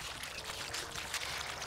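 Bubbling water effect from the Sparklite video game, a brief, faint, fizzy gurgle with no one speaking over it.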